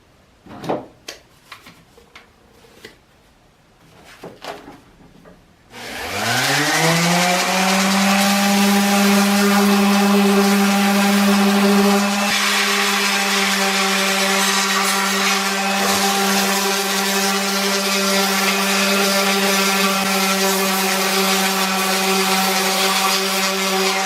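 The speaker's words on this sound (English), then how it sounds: "I'm going to use this palm sander with 120 grit sandpaper." An electric palm sander fitted with 120 grit sandpaper sanding wood while building a Bennet boat: a few clicks, then the motor spins up into a loud, steady, close whine that holds for the rest of the clip.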